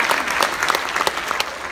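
Audience applause at a high school show choir competition awards ceremony, a steady burst of many hands clapping close and loud throughout, with no talking.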